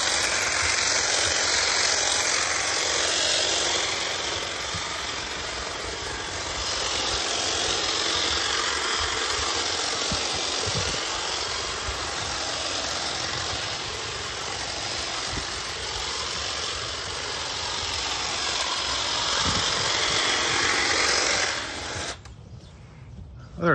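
A Wild Badger cordless 40V 24-inch hedge trimmer runs steadily while trimming bushes, a continuous close buzzing motor hum lasting about twenty seconds before cutting off abruptly near the end.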